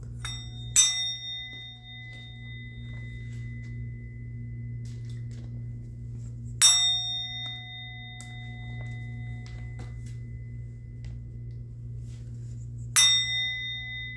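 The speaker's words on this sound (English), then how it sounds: "I'm going to ring the bell." A bell is struck three times at slow, even intervals, each strike ringing clearly with a long fading metallic tone over a steady low hum.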